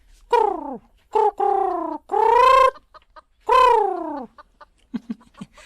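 Several loud, close hen clucks and drawn-out squawks in bursts, followed by softer short clucks near the end.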